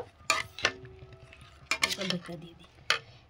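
Mango pickle being mixed by hand with spices in a bowl, giving a few short, quiet scraping and clinking sounds, sparse and close, over near silence.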